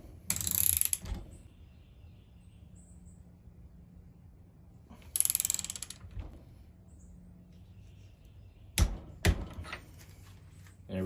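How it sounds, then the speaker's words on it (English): A ratchet tightening fittings held in a vise in a workshop, two short clicking bursts followed by a couple of sharp metallic knocks, close and fairly quiet, with no talk. "So I'm going to set this up in the vise and get these torqued down."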